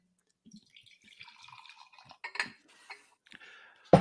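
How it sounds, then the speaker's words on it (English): Drink trickles and splashes into a glass in short uneven bursts, fairly quiet and close, ending in a sharp clink of glassware. "time for another"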